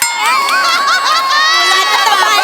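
An audience at a comedy show gives a standing ovation, filling the space with a continuous, loud wash of high-pitched cheering and shouting.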